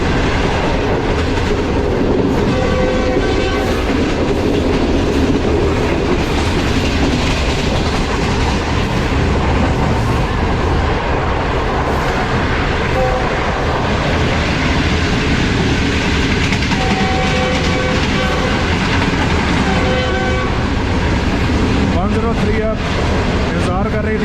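A passenger train on the Green Line runs steadily through Gujarat with continuous loud rumble and clickety-clack of the wagons throughout, heard from inside the carriage, and no horn stands out.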